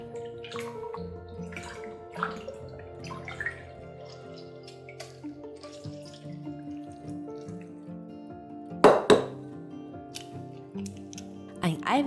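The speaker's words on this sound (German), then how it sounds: "Die Fleischscheiben im Wasser spülen und auspressen." Thin pork slices are rinsed in water and squeezed out, with splashing, dripping and sloshing bursts that grow louder toward the end over a bed of soft background music.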